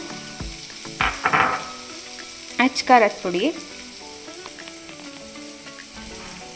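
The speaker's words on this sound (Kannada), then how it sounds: "ಒನ್ ಕಪ್ ಈರುಳ್ಳಿ ಈರುಳ್ಳಿ ಫ್ರೈ ಆಗೋದ್ರೊಳಗೆ" Onions frying in a pan for Coorg-style mango curry give a soft, steady sizzle in the background, while a person talks briefly over it in two short bursts.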